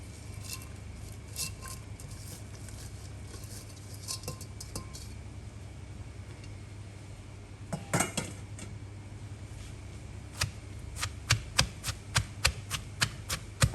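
Banana, mango and eggplant are pounded in a mortar, starting with faint scattered taps over a low hum and building into sharper, regular thuds and clacks near the end.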